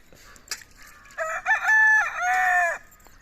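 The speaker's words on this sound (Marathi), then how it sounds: "खाली उतारला कोंबडा बघा" A rooster clucks a few times, then lets out a loud, drawn-out crow, close by over quiet outdoor background.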